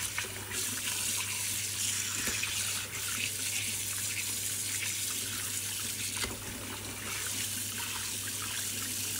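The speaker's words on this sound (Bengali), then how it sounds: "চিকেনটা আমি এখন ভালোভাবে ধুয়ে নেব।" Raw chicken washed under a running kitchen tap, a steady close stream of water splashing and trickling into the sink, continuous with no talk.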